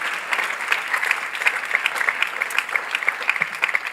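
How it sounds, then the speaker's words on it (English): A church audience claps continuously at a volunteer awards ceremony, a full, even round of applause with sharper individual claps standing out, no talking. "Why don't you give a hand clap to all of our One Team volunteers"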